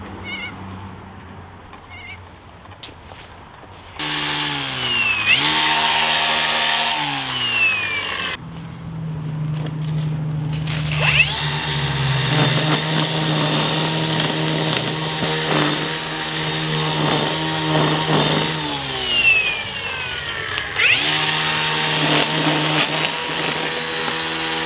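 A DeWalt 18V split shaft line trimmer run outdoors, motor whining up in several bursts of a few seconds each, with pitch sweeps as it spins up and winds down between loud stretches, close and alone.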